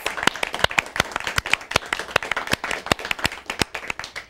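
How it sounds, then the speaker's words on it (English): Applause from a studio audience at an India Talks TV show's Happy Birthday India episode: distinct, fairly loud handclaps landing in a quick, slightly uneven rhythm for a few seconds, with no voices over them. "Let's give India a big round of applause."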